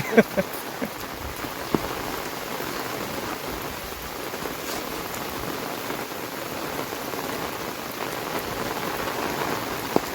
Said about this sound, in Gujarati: આવી રીતનો વરસાદ ચાલુ છે.